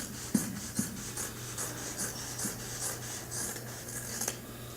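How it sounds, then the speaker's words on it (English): Scissors cut through folded fabric in a quiet, repeated rhythm of soft snips and rustles, close by, with no voices. "what I'm going to do is actually cut the bottom of this so that I have two different pieces"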